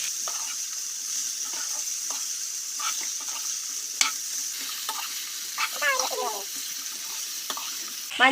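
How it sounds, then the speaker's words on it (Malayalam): Chopped tomato and turmeric frying in a pan for an Easter biryani, a continuous hiss with repeated spoon scrapes and taps against the pan, close up and with no voices. "ഇനി ഇതിൻ്റെ അകത്തേക്ക് നമുക്ക് തക്കാളി അരിഞ്ഞത് ചേർത്ത് കൊടുക്കാം"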